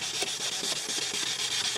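A #1 sanding pad scrubs back and forth across a plastic car headlight in quick, regular strokes, a close, gritty rasping rhythm with no talking.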